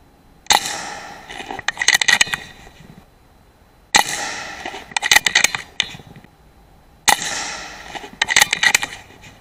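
A Brocock Ranger XR air rifle fires pellets at a 30-meter target, heard as three sharp, close shots spaced a few seconds apart, each followed by a short run of metallic clicks and rattles.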